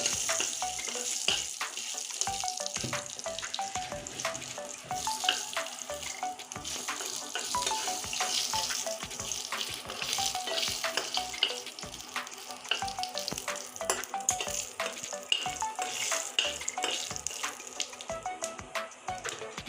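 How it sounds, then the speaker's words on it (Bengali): Two dried red chillies and cumin seeds frying in hot oil for a tempering while cooking taro, giving a continuous close crackling sizzle with scattered pops and occasional stirring scrapes, no voices. "দুটো শুকনো লঙ্কা দিয়ে দিচ্ছি আর দিয়ে দিব জিরে আমি সুন্দর করে ফরনটা ভেজে নেব"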